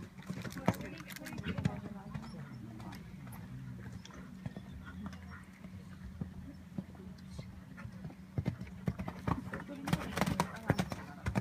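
A horse's hooves clip-clop at a 120 cm show jumping event in Iisalmi, with irregular thuds near and far throughout while people talk over them.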